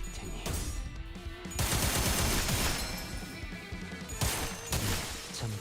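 Skull Buster gun fire in Limbus Company, a dense, loud rolling barrage of shots and impacts coming in heavy overlapping waves across the whole stretch, with bursts swelling and easing but never stopping.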